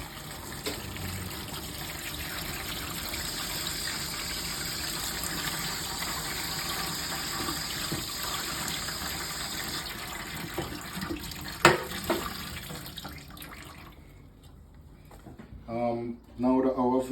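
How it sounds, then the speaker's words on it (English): Peeled vegetables washed in a strainer under a running tap, with a steady gush of water that fades near the end into a few splashes while a voice talks. "We're just gonna put in the strainer to wash it."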